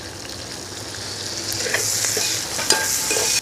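Chicken 75 frying in hot oil in a Kerala-style kitchen after curry leaves go in, a steady close sizzle and crackle with a few sharp spits and pops near the end, no talking.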